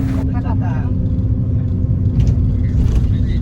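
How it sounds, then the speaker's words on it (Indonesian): Bus travelling the road from Singapore to Kuala Lumpur after Malaysian immigration, a continuous low engine and road rumble from inside the cabin, with brief voices over it. "ini kita udah di bis ya, teman-teman. Kita udah jalan dari imigrasi Malaysia tadi menuju ke Kuala Lumpur"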